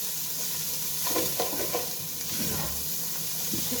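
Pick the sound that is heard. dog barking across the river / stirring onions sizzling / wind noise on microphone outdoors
stirring onions sizzling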